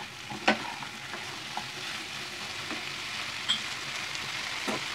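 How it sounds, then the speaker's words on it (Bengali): Soaked yam chunks sauté in a masala of melted tomatoes, a constant close sizzle punctuated by occasional sharp spatula taps and scrapes against the pan. "এখন আমি যে ওলটা ভিজে রেখেছিলাম সে ওলটা দিয়ে দেবো, মানে আমি মশলার সঙ্গে কষিয়ে নেবো।"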